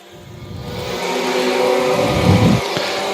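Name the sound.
race cars accelerating out of turn 4 at the green flag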